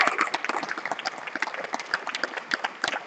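Audience applause at an award ceremony after second place is shared in a tie: dense, steady clapping from many hands, fairly close and sustained for a few seconds with no talk over it.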